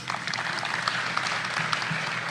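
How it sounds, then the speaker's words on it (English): Audience applause at a formal address by the Philippine president, a steady, dense patter of many people clapping together in a large room, moderately loud and even throughout with no speech. "And that alone deserves already applause."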